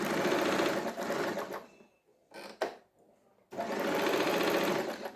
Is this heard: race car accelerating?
no